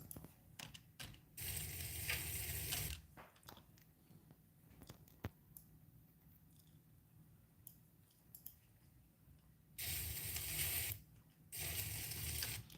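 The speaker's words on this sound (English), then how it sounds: "That's good sizzle." Bursts of bright hissing sizzle sound effect come in two loud stretches, separated by a quiet gap filled with faint clicks and small mechanical ticks, all fairly close.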